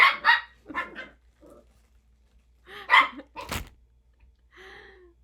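Several bursts of puppies barking, a quick yap or two at first, then louder sharp barks later, fairly close, with a soft whine near the end.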